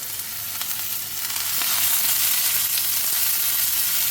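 Onion sizzles and fries with eggplant in a pan, a steady close hiss that swells louder partway through as the mix is stirred.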